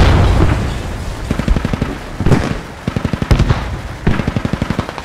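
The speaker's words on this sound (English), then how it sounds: "I keep shooting" Rapid gunfire in the military shooter Squad, loud and close, with bursts of automatic shots in quick rhythmic strings broken by short pauses and a few heavier booms.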